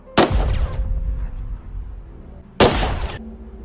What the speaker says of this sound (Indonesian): Ternyata, suara tembakan itu terdengar sangat jelas oleh Emma